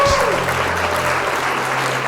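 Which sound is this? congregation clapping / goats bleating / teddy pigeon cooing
congregation clapping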